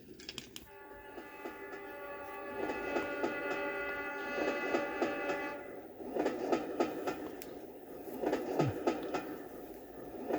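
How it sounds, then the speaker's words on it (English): Train passing on a sleep sound machine recording, with a long sustained horn blast, rumbling rail noise and rhythmic clickety-clack rising and falling across the track, no voices. "Sounds like a train's going to crash into your room at any second."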